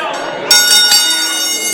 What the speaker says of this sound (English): There's a bell, we're underway.